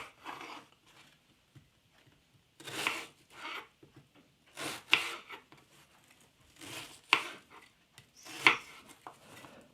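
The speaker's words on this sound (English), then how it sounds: "that's the onions nicely sliced" Onions sliced with a kitchen knife on a board while making an omelette, heard as bursts of crisp cutting strokes in short clusters with quiet gaps between them, close and fairly faint.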